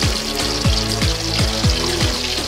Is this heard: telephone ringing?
no